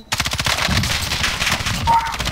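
Rapid automatic gunfire from a video game shooter rattles in dense, continuous bursts, loud and close, with no talk over it.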